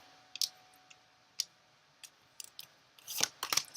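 A card is drawn from a shuffled deck, heard as a quiet string of crisp clicks and snaps as the cards are handled, ending in a short burst of quick slides and flicks.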